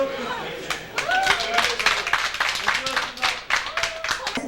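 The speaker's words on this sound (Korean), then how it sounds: "박수 부탁합니다" Wedding guests at the Yeongbingwan wedding hall applaud the couple's kiss, a patter of uneven hand claps that rises and falls over a few seconds while a voice talks over it.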